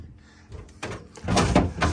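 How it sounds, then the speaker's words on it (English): A refrigerator crisper drawer slides and bumps shut up close, a few short scraping thuds with quiet handling rustle before a louder sliding rumble at the end. "back into the crisper drawer."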